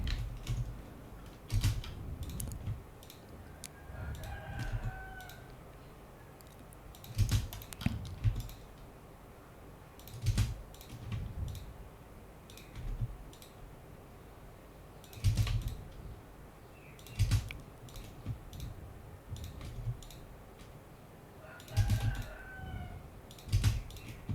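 Computer keyboard typing during a building-modelling session, with short clusters of close, crisp key clicks separated by pauses and repeating irregularly throughout.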